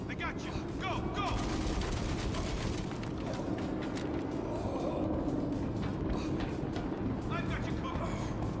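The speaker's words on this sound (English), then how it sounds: "Laying down covering fire." Star Citizen combat, with a dense stream of rapid gunfire crackling and popping almost continuously over a rumbling engine-like drone, loud and busy, with voices talking underneath.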